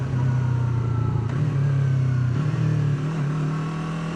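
A Yamaha R3 sport motorcycle's engine revving under load, holding a loud steady drone that dips as it downshifts, heard close and without talk.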